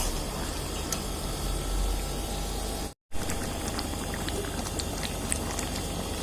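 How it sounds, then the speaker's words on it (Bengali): Ghugni, a spiced pea curry with garam masala, bubbles steadily in a pot, a dense close simmering hiss with soft popping throughout, cut by a brief silent gap midway. "এখন একদম ফুটে গেছে, একদম হয়েও গেছে।"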